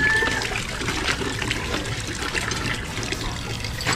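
Water pours from a Jetmatic hand pump in a continuous, close splashing trickle that holds at an even level for several seconds, with no voices.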